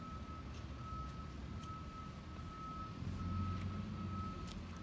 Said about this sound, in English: So that's why he's like just staring at this truck